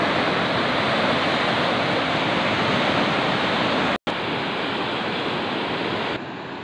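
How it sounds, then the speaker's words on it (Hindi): Loud, steady roar of rushing floodwater, a dense continuous wash with no voices. "अजे भी पानी की स्पीड तुसा चेक करो, अजे भी पानी काफ़ी ज़्यादा है।"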